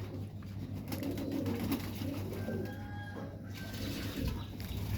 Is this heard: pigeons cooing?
yes